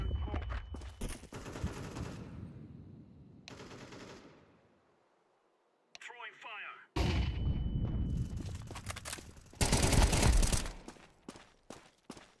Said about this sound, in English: Throwing a grenade. Fire in the hole.